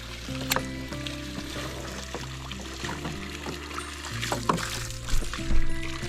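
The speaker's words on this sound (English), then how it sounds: "I forget about it and let the water run out" Water runs steadily on a farm while a container is filled, a continuous trickling, splashing flow with a low mechanical hum beneath it, no talking.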